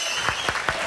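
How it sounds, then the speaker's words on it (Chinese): A handful of sharp, separate hand claps ring out in quick succession on a television talk show about new fathers, close and clear against a soft room hum. "拍拍手"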